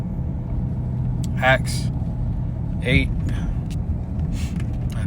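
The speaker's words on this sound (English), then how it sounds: "I'm driving, so bear with me" Steady low engine rumble and road noise from inside a moving car at dusk, continuous throughout, with someone talking over it.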